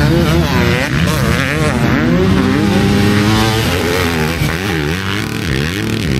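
Several motorbikes race around a wet track, engines droning and revving continuously at close to middle distance, with a bright pitched whine rising and falling as the bikes pass.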